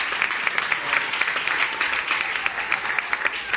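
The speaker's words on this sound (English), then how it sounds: "We should give him a round of applause." An audience applauding at a political town-hall event, moderately loud clapping with distinct sharp claps standing out in a steady patter for a few seconds.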